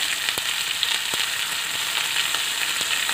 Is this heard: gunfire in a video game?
no